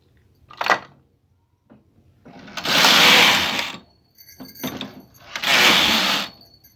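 A knitting machine carriage is pushed across the bed while knitting a lace pattern for a blouse or girl's frock, making two long rasping mechanical sweeps, close and loud, between short clicks and knocks.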